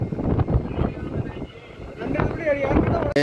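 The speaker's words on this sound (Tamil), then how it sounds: "காற்று அலை எப்படி கிளம்புது பாருங்க" Wind gusts and sea waves wash around a fishing boat out at sea, with blustery noise hitting the microphone and muffled voices in the background.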